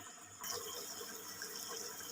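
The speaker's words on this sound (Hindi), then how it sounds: "तो फिर पानी डालती हूँ इसमें" Water is poured into a pot of beef karahi, a steady close splashing rush that starts suddenly and continues evenly without any talking.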